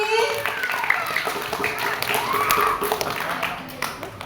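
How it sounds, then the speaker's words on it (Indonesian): A class of Indonesian schoolchildren clapping for a student called to the front, a steady crowded patter of many hands with children's voices mixed in, continuing evenly throughout. "Ayo tepuk tangan sekali lagi"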